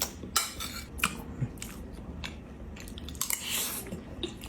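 Someone chews a mouthful of chicken dinakdakan, giving soft wet crunching and biting sounds close up, with faint clinks of dishes or cutlery and no speech.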